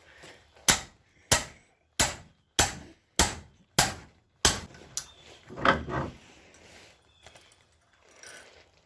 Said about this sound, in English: Sometimes that means using a sledgehammer to tighten your vise.